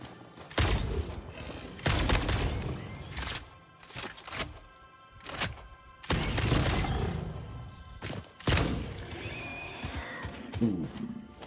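Gunfire in the video game Satisfactory, with several bursts of sharp shots against enemies spaced through the stretch, loud and close, with quieter game ambience between them.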